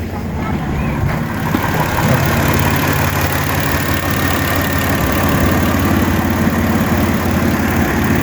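A Gazel V6 2.7-litre petrol engine idles steadily and close by, with a low, even drone and a faint rapid rhythm running throughout. No voices are heard.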